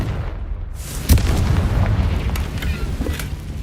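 A Confringo fire spell in Hogwarts Legacy bursts with a sharp, loud boom, followed by rumbling crackle and smaller pops that carry on for a few seconds.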